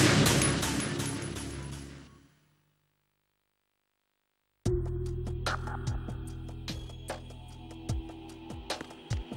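Metal Gear Solid 2 gunfire on PlayStation 2: a dense burst of shots fades into a second of silence, then sharp repeated gunshots and machine-gun rattles resume, loud and close, without talk.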